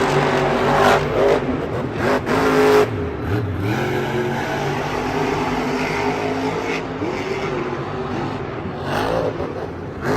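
Monster trucks race in an indoor arena at Monster Jam Detroit 2022, big engines droning and revving with rising and falling pitch, loud and sustained, echoing throughout with a roaring crowd-filled backdrop.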